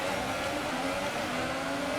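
F1 race cars from the F1 2018 video game rev and accelerate at the start of the USA Grand Prix, a dense, continuous engine roar that holds steady throughout.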